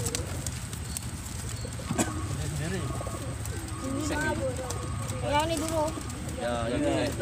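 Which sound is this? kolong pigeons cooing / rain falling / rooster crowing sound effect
kolong pigeons cooing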